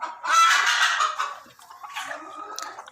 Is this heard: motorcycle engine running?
no